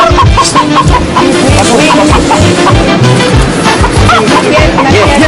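Chickens cluck and squawk loudly and continuously up close, a busy flock amid background commotion.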